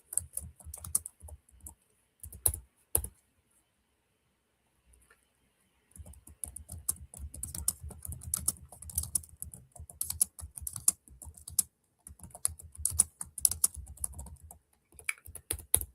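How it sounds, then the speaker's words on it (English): Typing on a computer keyboard: quick close bursts of key clicks, a brief flurry, a long silent pause, then sustained rapid typing with short breaks. "let me just type something in the chat"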